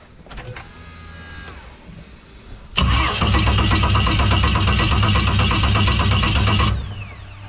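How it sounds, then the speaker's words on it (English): An electric fuel pump primes on a turbocharged Barra-engined boat, a faint hum giving way to a loud, steady mechanical buzz with rapid ticking that runs for about four seconds, then cuts back to a low hum. "Fuel pump's still priming hard."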